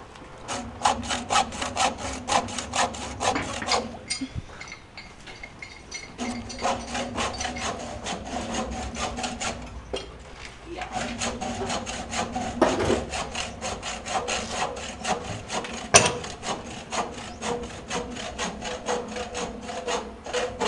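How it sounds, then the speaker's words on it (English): A saw cuts through a metal pipe with fast, steady back-and-forth strokes that run almost continuously, heard up close at a work site. Two brief pauses break the rhythm before the cutting resumes. "pinuputol na po ni Kuya Edwin yung tubo"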